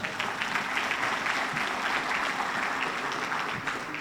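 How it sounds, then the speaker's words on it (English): An audience at a police department's annual awards ceremony applauds the chief, steady crowd clapping of moderate loudness that continues evenly throughout. "Give the chief another round of applause."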